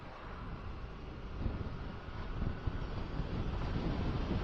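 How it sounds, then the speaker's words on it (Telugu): Steady, heavy wind buffets the microphone during a motorcycle ride on a highway near lorries, a continuous low roar that swells slightly as the ride goes on. "గాలి మాత్రం ఇక్కడ ఫుల్ ఉన్నాయి, గాలిలో అయితే గట్టిగా వస్తున్నాయి."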